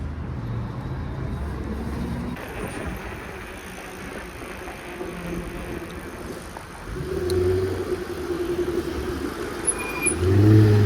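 A car rolls past on a road in Trnava, Slovakia, heard from a bicycle, its engine hum swelling toward the end over steady road and wind noise.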